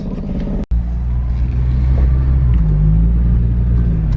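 An Acura RSX fitted with a new exhaust drives along with a deep, steady low rumble and a mild rise in engine pitch, fairly loud and close, with a brief dropout early on.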